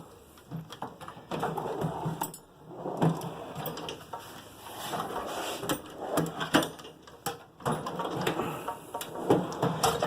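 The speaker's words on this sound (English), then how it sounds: "The drawer slides, they're nice and smooth." Tool cart drawer running along smooth metal slides, a steady rolling, rattling glide repeated several times at close range with no talking.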